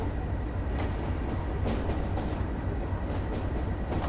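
A train rolls along in Train Sim World on the Tees Valley Line with British Rail classic traction rolling stock, giving a steady rumble with faint rhythmic wheel clicks and no talk.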